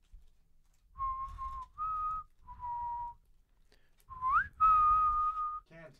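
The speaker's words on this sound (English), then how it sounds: "Let me whistle a sound for our people here" Someone whistles a short tune of several held notes with brief pauses, one rising swoop near the end, fairly close and clear.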